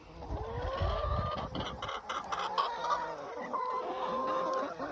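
Agitated backyard hens cluck and squawk in a rising, overlapping chorus at close range, with sharp repeated calls over a low farmyard background.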